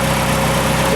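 An engine with an exhaust leak, newly reassembled, runs at a steady idle; the low, continuous rumble sounds close and loud, with no breaks through the whole second.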